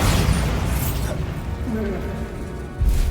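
Bombarda blasting-spell explosion in Hogwarts Legacy: a loud low boom with a crackling burst at the start, a rumbling decay, then a second heavy blast near the end, with a voice speaking in between.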